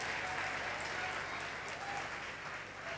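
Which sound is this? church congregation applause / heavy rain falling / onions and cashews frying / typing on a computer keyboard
church congregation applause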